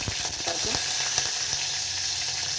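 Dried red chillies sizzle and crackle in hot oil, a steady close frying hiss with small pops throughout, no voices.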